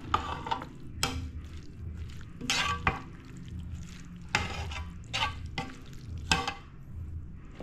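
A spoon stirs a food mixture with pickles, giving repeated scraping and clinking strokes against the bowl in irregular bursts, close and fairly loud, with no talk.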